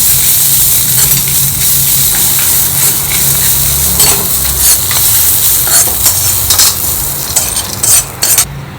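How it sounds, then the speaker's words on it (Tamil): Dried red chillies and grated coconut being roasted in a hot pan, a spatula scraping and stirring steadily over a loud, close, continuous sizzle, with sharper clinks near the end and no voices. "1 கப்பு தேங்காய் சேர்த்து அந்த சூட்லேயே பரட்டிக்கலாம்."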